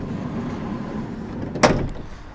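The tall sliding entry door of a 2015 Roadtrek Zion RAM Promaster camper van rolls along its track and closes with a single sharp clunk, heard close by over a low background hum.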